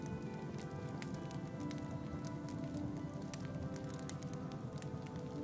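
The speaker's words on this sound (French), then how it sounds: "il commence à pleuvoir. Une petite pluie de printemps." Light spring rain falls outside in the countryside, a soft, even patter with scattered small drips that runs steadily throughout, fairly faint and with no talking.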